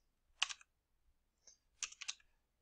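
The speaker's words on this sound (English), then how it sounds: "let's go ahead and just type in some stuff" Quiet, close typing on a computer keyboard comes in two short clusters of crisp key taps separated by a pause, with a single faint click between them, in an otherwise silent room.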